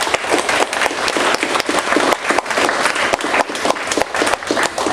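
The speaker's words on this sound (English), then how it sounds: "Let's give our speakers a round of applause." Loud, close round of applause for speakers at an FBI meeting, a dense continuous clatter of many hands at steady volume for the full few seconds.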